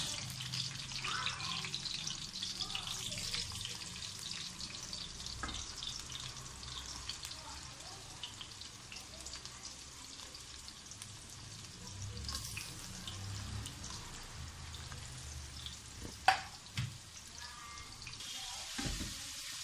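Long-cut onions frying over a low flame in a pan, giving a steady soft sizzle throughout with occasional faint scrapes and a sharp clink of stirring near the end, no talk.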